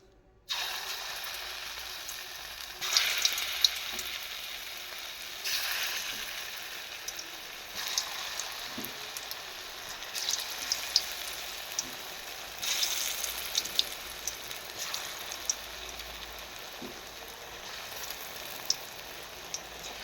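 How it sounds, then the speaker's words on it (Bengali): Cauliflower pakora pieces frying in hot oil in a kadai, a quiet, continuous bubbling sizzle that swells in soft waves as pieces go in, with faint occasional clicks. "তেলটা গরম হয়ে গেছে তো আমি কিন্তু এখানে আস্তে আস্তে একটা একটা করে ফুলকপি ছেড়ে দেবো"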